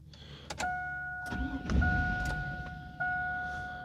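A Chevy GMT800 pickup engine cranks during a security-system reset, with a steady mechanical whir close by and a sustained dashboard chime tone over it, the cranking surging again near the end.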